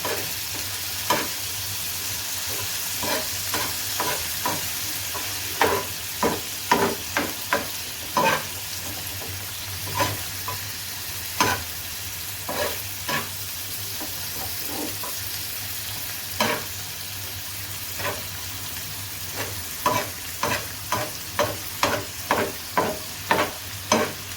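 Minced meat keema frying on a tawa with spices, a steady soft sizzle under repeated sharp scraping taps of a spatula stirring against the pan, close up and fairly quiet.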